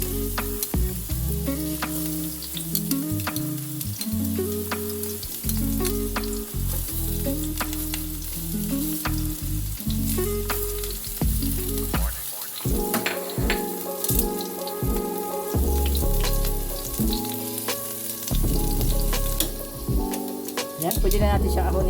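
Chopped onions for a fish steak topping fry in a pan with continuous bright sizzling, plus intermittent stirring clatter and occasional soft speech underneath.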